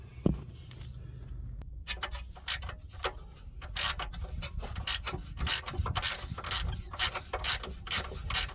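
Ratchet wrench loosening 13 mm nuts on the steering rack of a VW Golf 4, close-up, with repeated rapid clicking bursts in irregular runs and short pauses between strokes.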